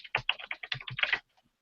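Rapid typing on a computer keyboard, a quick burst of a dozen or so crisp, close key clicks lasting about a second before the sounds stop.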